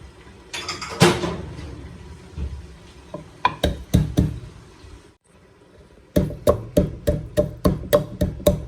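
Black peppercorns pounded coarsely for a namkeen gosht rosh, a run of sharp, close, evenly spaced knocks, sparse at first and then a steady quick series of about nine hits near the end, with no talk.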